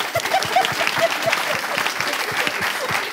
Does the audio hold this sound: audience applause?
yes